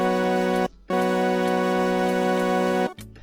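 Sustained virtual piano chords in FL Studio ring out, each long and full, separated by short gaps of silence.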